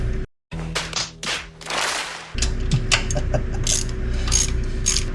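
A ratchet fitted with a 13 mm metric socket turns a fuel line fitting on a Holley carburetor in a V8 Ranger, giving several quick clicking strokes up close, followed by steady mechanical ratcheting.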